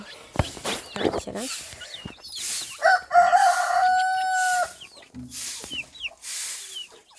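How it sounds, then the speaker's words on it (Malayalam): Chickens cluck close by while newly hatched chicks peep in short high bursts, with a rooster crowing partway through. "ഈ പ്രാവശ്യം വിരിഞ്ഞിറങ്ങിയ കോഴിക്കുഞ്ഞുങ്ങളാട്ടോ"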